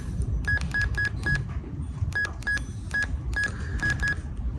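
Short electronic menu key beeps from an ECOXGEAR portable 5-watt UHF radio repeat in quick irregular clusters, each a crisp tone over a muffled low background.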